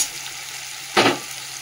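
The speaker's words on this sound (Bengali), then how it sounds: "আলুটা একটু ভেজে নেবো, নিয়ে তারপরে মশলা দেবো।" Potato pieces frying in hot oil in a pan, a steady loud sizzle with a sharp burst of crackling about halfway through as something is stirred or added.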